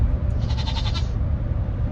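A goat bleats from the back of a moving vehicle on the way home from pickup, a wavering cry lasting about half a second over constant low road rumble, muffled and moderately close.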